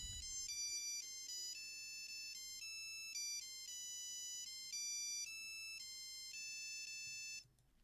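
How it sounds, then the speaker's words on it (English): An old mobile phone plays the Tetris theme as a ringtone, a clean electronic melody of stepped beeping notes at a steady tempo, clear and close, stopping abruptly near the end. "playing the Tetris theme."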